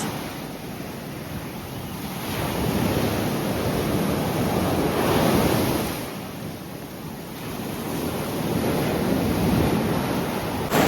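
Stormy Black Sea waves wash and break on a beach in Chornomorsk in broad, rushing swells that rise and fall, with wind buffeting the microphone throughout.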